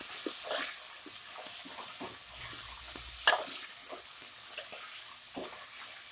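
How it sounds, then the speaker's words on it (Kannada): Soaked dried peas hit a pan of browned onions for a Kannada tomato bath, and a steady close sizzle runs throughout with scattered scrapes and clicks from stirring. No one speaks. "ಈಗ ಬಟಾಣಿ ಹಾಕ್ತಾ ಇದ್ದೀನಿ, ಇದನ್ನ ಎರಡು ನಿಮಿಷ ಫ್ರೈ ಮಾಡ್ಕೋಬೇಕು."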